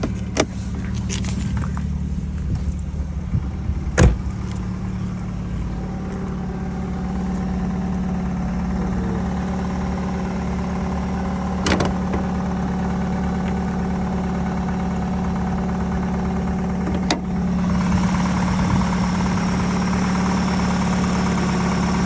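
A Daewoo Lanos engine idles steadily after a cold start, a constant low hum with a few brief clicks and no other noise or voices.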